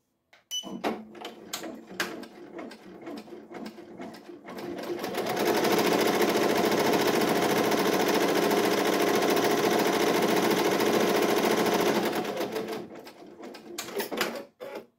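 A Ricoma EM1010 embroidery machine stitches an applique, its rapid steady needle chatter building to a loud, sustained run in the middle and then tapering off into brief intermittent bursts at the end.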